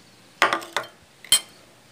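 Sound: ingredients put into a cooking pot, clinking

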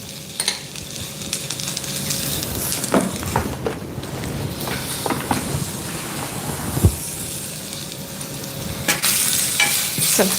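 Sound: raw mango cooking in its own juice, uncovered

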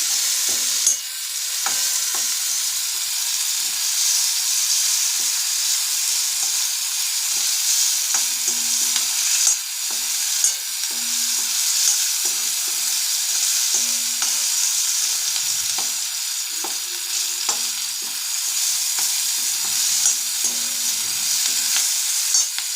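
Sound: onions frying and being stirred in a pan

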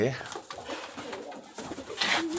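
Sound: pigeons cooing

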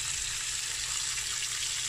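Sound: steak sizzling in butter in a pan

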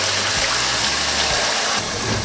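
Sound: washing salted napa cabbage in water for kimchi

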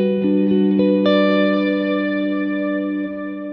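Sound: guitar reverb pushed to an ambient sound

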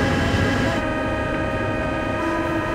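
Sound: Paris metro train

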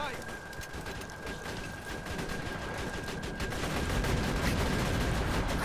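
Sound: rapid weapon gunfire in the video game Borderlands 2

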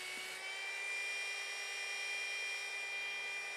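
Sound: belt sander grinding the edge of a wooden sword blade

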